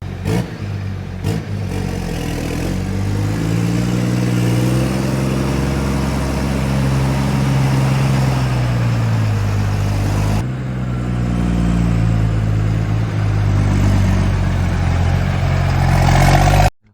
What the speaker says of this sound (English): they have a good loud snort in the exhaust